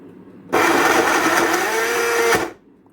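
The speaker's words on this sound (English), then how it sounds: "So I will start blending it now" A blender whirs loudly and steadily for about two seconds, blending cucumber, celery, fresh mint leaves and lime juice into a green detox juice, with a sharp start and stop and no talking.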